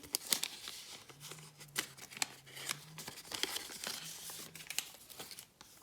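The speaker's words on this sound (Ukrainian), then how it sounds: "І відкриваємо наш пакетик, дивимося." Paper surprise packets being torn open and unfolded, with scattered crinkles, rustles and sharp tearing bursts, close and fairly quiet, irregular in rhythm.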